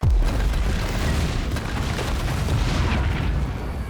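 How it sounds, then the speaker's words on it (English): Bombs detonate in a scene from Marvel's Secret Invasion, one sharp blast at the start giving way to a sustained, loud rumbling roar that fills the whole stretch without letup. "who then sets the bombs off"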